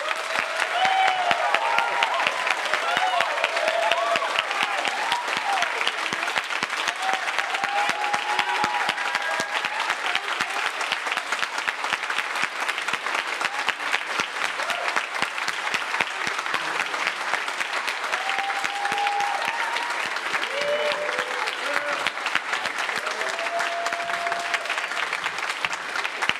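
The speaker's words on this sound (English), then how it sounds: "Let's give them a round of applause." Long, steady applause from an audience at a school choir spring concert, dense and even clapping with occasional cheers and voices rising above it.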